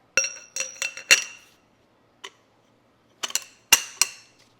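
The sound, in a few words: wrench with a bar loosening a motorcycle axle nut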